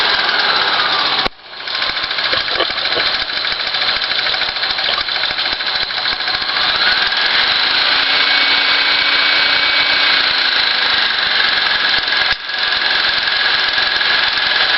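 A 1950s Apollo Synchro 8mm film projector motor running steadily, a close, continuous whirring drone with mechanical rattle and a couple of brief dropouts.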